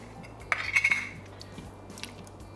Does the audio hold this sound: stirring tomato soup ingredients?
yes